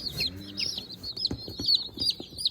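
Young chicks, free extras shipped alongside an order of Cornish Cross meat birds, chirp in a steady high cheeping chorus with soft clucking underneath, close and continuous with no talking.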